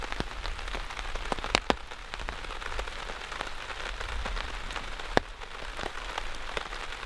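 Rainwater drips from a forest canopy onto a hammock camp after a storm, a steady soft patter with scattered sharp, louder drops landing close by, no voices.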